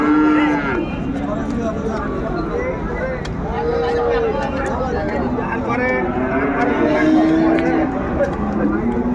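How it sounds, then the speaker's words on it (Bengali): Sahiwal bulls at a livestock market in Dinajpur give several drawn-out moos throughout, close and clear, over a steady crowd murmur with people talking nearby. "শাহিওয়াল মানের গরু, বেশ সুন্দর। দুটোই গরুই বেশ সুন্দর কোয়ালিটি সম্পন্ন মানের গরু।"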